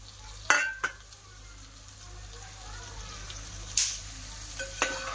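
Boiled eggs, already fried, stirred through masala in oil for Khandeshi egg biryani: a low sizzle with a few sharp spatula knocks and scrapes against the pan, close and fairly quiet.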